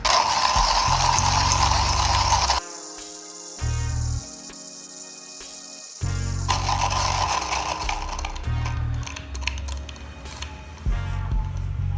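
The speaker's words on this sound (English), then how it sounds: "Put the coffee in. And I'm going to grind that up now." Coffee beans crunch in a Comandante hand grinder, loud close scratchy grinding in bursts broken by short pauses and a lighter rattling section.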